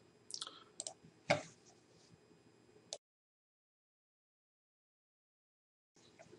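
Computer mouse clicks while starting a software installation on a PC: a few sharp, close clicks in the first three seconds, the loudest near the middle, followed by silence and faint handling noise at the end.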